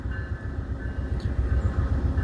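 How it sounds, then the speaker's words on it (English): A passenger train rumbles at Fallowfield station on a VIA Rail line, a steady low rail and wheel drone running unbroken with no voices over it. "Alright, folks, train's leaving."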